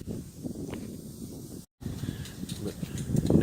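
Wind gusts buffet the microphone outdoors beside a 2011 Ford Fusion under bearing repair, a steady rumbling hiss with a brief dropout midway, then rising louder toward the end.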